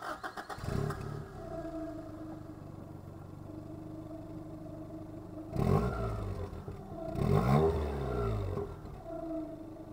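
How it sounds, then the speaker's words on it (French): A 1988 Toyota Celica convertible's four-cylinder engine burbles through its chrome dual exhaust, idling steadily with two loud revving swells near the end, heard alone without talk. "je termine ici avec la double sortie d'échappement chromée qui nous fait une belle petite mélodie de 4 cylindres"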